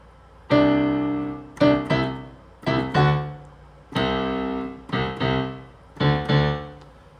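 Piano chords and melody played together in a steady, moderate rhythm, each group of notes ringing out and fading before the next.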